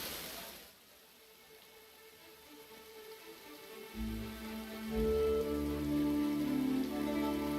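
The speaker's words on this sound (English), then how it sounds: "Because it's raining" Steady rain patters throughout in the video game Kingdom Come: Deliverance 2, joined midway by a low rumbling drone and then tonal background music that grows louder; no one speaks.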